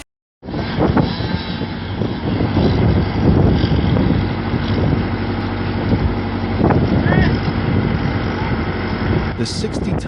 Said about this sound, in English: Thanks to its reliable hydraulic system and durable electric motor, the WJ processes timber smoothly and effortlessly.